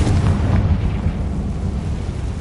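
A Confringo fire-blast spell goes off in Hogwarts Legacy, a loud, dense explosive roar that rumbles steadily throughout.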